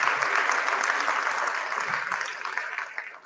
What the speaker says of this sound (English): Can I get a hand clap for those Durham divas